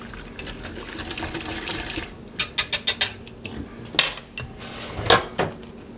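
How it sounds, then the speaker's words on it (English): A spoon stirs thickening chocolate cream pie filling in a bowl, giving a run of quick scraping clinks followed by a few scattered taps, close and moderately loud over a faint background hum. "We're stirring again. It's starting to get thick."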